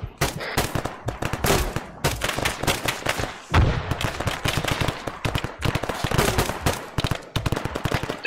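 Dense bursts of machine gun fire from the video game ARMA 3 rattle in rapid, overlapping volleys, loud and close, with short gaps between strings of shots and no talking.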